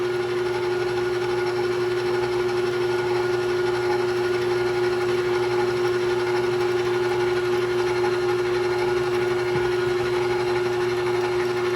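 A stand mixer works flour into homemade pizza dough, a steady unbroken motor hum with a constant whirring drone that holds an even loudness throughout.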